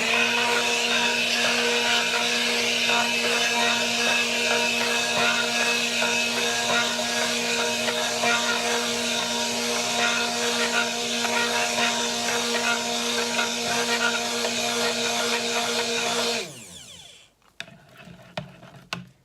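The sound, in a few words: mixing cactus cold process soap batter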